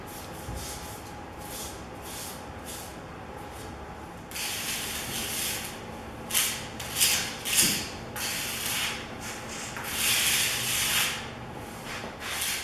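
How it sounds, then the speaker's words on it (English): A putty knife scrapes excess concrete repair material across a concrete floor, giving repeated close rasping strokes that grow louder partway through, with no voices. "I'm using the putty knife to move any of the excess material off of the surface of the floor"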